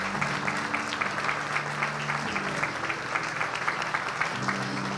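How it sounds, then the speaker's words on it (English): Applause from the audience at a Global Assembly of the World Movement for Democracy, a steady patter of many hands clapping in a large hall, moderately loud and continuous over quiet background music. "Let's give another round of applause to thank President Tsai and Chairman Yeo"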